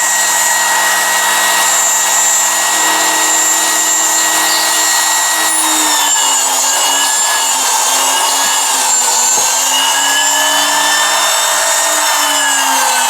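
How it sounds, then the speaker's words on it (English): A steady high-pitched whine of a small drill with a 1/16 inch bit biting into metal to drill small holes, continuous and close, with the pitch dipping slightly as it cuts. "I will drill each of the 6 holes like that with the 1/16 inch bit"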